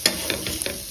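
Tomato being roasted in masala in a pan gives a soft, steady sizzle broken by a few quick stirring scrapes, close and continuous with no voices.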